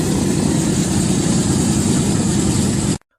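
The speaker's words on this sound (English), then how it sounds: "The radial engine is nothing like what we normally see these days." A C-47's radial engine runs as a loud, steady, throbbing drone with heavy low rumble, then cuts off abruptly near the end.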